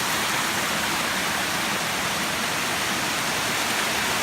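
Steady roar of a waterfall cascading beside a hiking trail on the Appalachian Trail, a dense broadband rush holding constant and close throughout with no voices.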